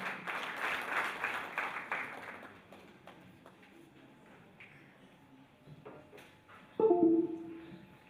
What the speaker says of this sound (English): a hand of applause as is coming in